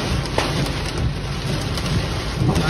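Heavy rain pours down during a Texas thunderstorm, a loud, steady hiss of falling water close by with low rumbling underneath and scattered splatter, no voices.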